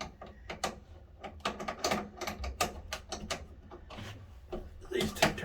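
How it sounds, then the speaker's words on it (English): A small crescent wrench is handled during solar inverter wiring work, giving a run of close, irregular metallic clicks, taps and rattles at moderate level, with no speech. "Baby crescent wrench here."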